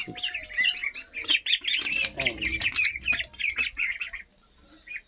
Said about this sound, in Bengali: এই যে অনেক সুন্দর হাঁসগুলো বসে আছে কাছ থেকে দেখাই